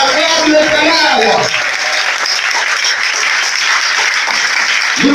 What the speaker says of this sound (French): lève-toi et acclame puissamment l'Éternel.